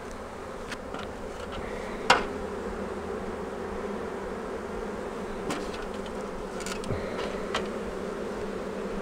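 A steady, dense buzz of many honeybees fanning together at close range at a hive entrance during a swarm, with a few faint clicks and knocks scattered on top.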